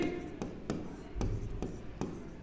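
Pen or chalk scratches in short, quick strokes across a writing surface, forming soft rhythmic scrapes and taps with faint room tone around them and no clear speech, as a maths solution to Euclid's division algorithm is written out.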